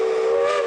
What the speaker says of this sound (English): we have a very loud whistle, and you can hear it almost all over town